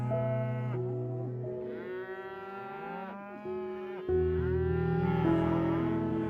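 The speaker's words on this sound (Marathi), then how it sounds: "कांक्रेज, गीर, देवणी, थारपारकर अशा देशी प्रजातींच्या 2000हून अधिक संख्येत गोधनाचं पालन या ठिकाणी केलं जातं।" Native Indian cattle of the Kankrej, Gir, Deoni and Tharparkar breeds, part of a herd of over 2000 on a farm, low in several long, overlapping moos, close and clear with no talk.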